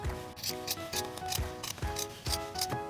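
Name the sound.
scissors cutting felt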